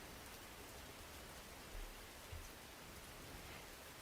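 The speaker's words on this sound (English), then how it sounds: "I had the rain sound on." Faint, steady rain ambience with a soft hiss of rainfall on a surface, continuous and even, playing quietly in the background with no talk.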